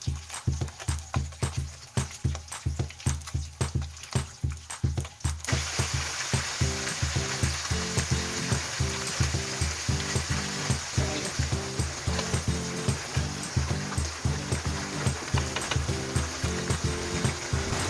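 Steady sizzling and crackling of maya-maya fish frying in a pan, with rhythmic tapping in the background and no voices.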